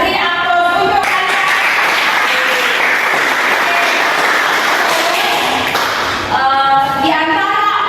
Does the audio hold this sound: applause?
yes